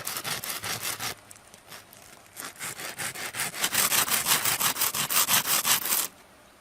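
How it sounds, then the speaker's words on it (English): Rapid rhythmic rasping strokes as a rough rock sands a primitive gorge fishing hook into shape, grinding back and forth, close and loud, pausing briefly then speeding up before stopping. "use a rough rock to start sanding this gorge hook into shape"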